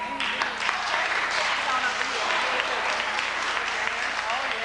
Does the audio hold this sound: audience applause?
yes